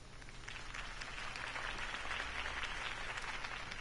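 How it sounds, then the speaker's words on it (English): Crowd applause after a campaign speech by Harvey Dent, a steady wash of many hands clapping at moderate loudness that holds for the whole span without a break and carries no speech. "could have heard that applause"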